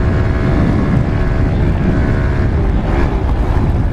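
A pit bike engine held at full throttle makes a loud, continuous droning roar that stays close to the microphone, with heavy wind rumble.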